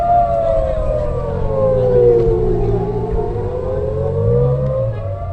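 Civil defense rocket alert siren in Israel, a loud wailing tone sliding down and back up in long sweeps, steady and continuous with a low rumble beneath.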